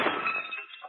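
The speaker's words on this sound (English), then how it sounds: "Might as well knock the rest of the glass out and let some air in." Window glass knocked out and shattering as a radio drama sound effect, a close, loud burst of breaking and clinking shards that trails off over about a second.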